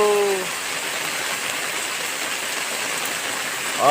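Strong floodwater rushes around flooded houses during a Kerala flood as a steady, close, hissing flow, with brief voices at the start and end.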